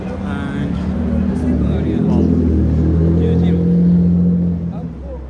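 Cars roll through a busy street crossing in Hiroshima, a low engine rumble swelling as vehicles pass, heard under a person talking nearby.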